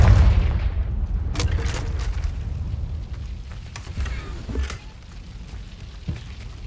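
A blasting-spell explosion in a Harry Potter video game: a deep boom opens the clip, followed by crackling debris and a few sharp bursts that fade over several seconds.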